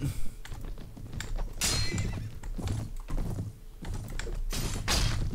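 Horse neighs and whinnies amid clip-clopping hooves and clashing combat in the Mount & Blade Prophesy of Pendor video game, loud and repeated over several seconds with a steady battle din underneath.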